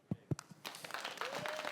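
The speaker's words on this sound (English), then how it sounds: "That's my mother right here clapping in there." Audience applause at a live event in Vegas: a few sharp, separate claps at first, then a steadier patter of clapping from a crowd, with voices talking over it.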